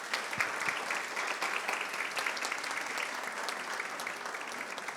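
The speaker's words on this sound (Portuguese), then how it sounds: "Vamos aplaudir as mamães?" Steady applause from a church congregation, dense and continuous, with no voices standing out.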